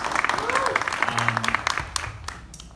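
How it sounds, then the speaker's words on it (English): A film Q&A audience applauds the casting director, a dense burst of many clapping hands with a voice and some tonal sounds mixed into the crowd noise. "Definitely deserves a round of applause."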